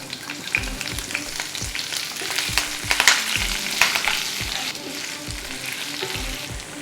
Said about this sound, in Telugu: తర్వాత దీంట్లో క్యాప్సికమ్ ముక్కలు వేసుకోవాలి